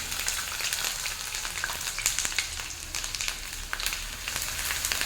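Chopped onions fry in hot oil with a steady, close sizzling hiss broken by fine crackles, continuous and with no voices.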